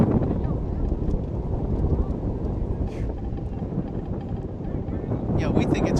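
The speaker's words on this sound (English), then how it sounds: "Yeah, we think it's windy here," Wind buffets the microphone at an outdoor high school lacrosse field, a constant low rumbling roar that fills the whole stretch, with faint distant voices underneath.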